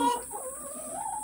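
Chickens eating a whole mango give a short, soft run of clucks nearby, faint and brief with no talking.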